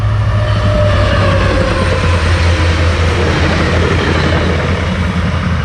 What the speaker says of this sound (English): All right, so the train's approaching now.